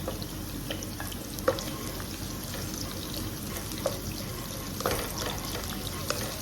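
Garlic and onion sauté in a pan for adobo under a steady, dense frying hiss, with occasional soft clicks and stirring knocks, close and moderately loud.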